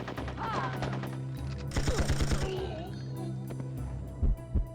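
Bursts of turret machine gun fire in the video game 007: Tomorrow Never Dies, rapid rattling volleys mixed with explosions and thuds over game music.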